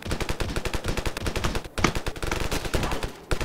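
Rapid automatic gunfire from newly added guns in the Ravenfield video game, a dense, steady stream of loud shots with a brief pause midway, heard alone.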